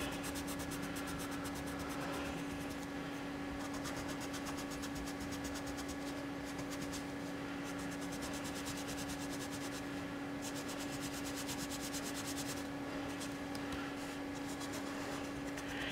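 Faber-Castell precision eraser scrubbing hard on watercolor paper, a steady continuous rubbing texture that runs throughout with no speech.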